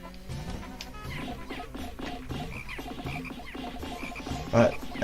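Croaking frog enemy in the Pikmin video game, with repeated low croaks over busy, steady game music and effects, and a louder burst near the end.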